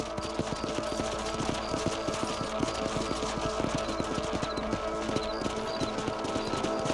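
A horse in Red Dead clip-clopping across a property at a steady trot, with close, even hoofbeats over a constant low ambient hum.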